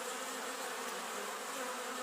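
Honey bees fly home to the hive on a spring evening in early March, a dense, steady buzzing of many insects close by with no voices.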